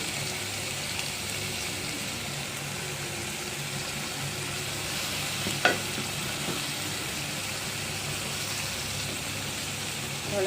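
Minced fish and potatoes fry in a pan with a steady, close, continuous sizzle throughout, broken once midway by a brief sharp clink or stir before the hiss carries on evenly.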